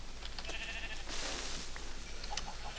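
A sheep in the Minecraft video game gives a few short, clear bleats over a faint steady game background, with no talk.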